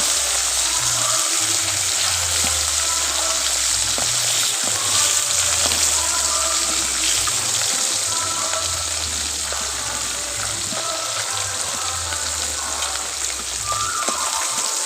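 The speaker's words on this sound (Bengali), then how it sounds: "প্রথমে মাছগুলোকে ভেজে নেব" Thin round fish slices frying in hot white oil in a kadai, a continuous crackling sizzle with bubbling spatter that stays close and steady throughout, with no talk over it.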